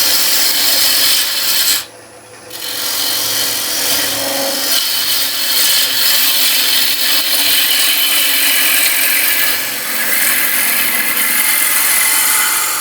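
A wood lathe spins a bowl while a tool cuts its foot, giving a loud, steady, broadband scraping hiss of tool on timber that drops out briefly near the start and then carries on evenly.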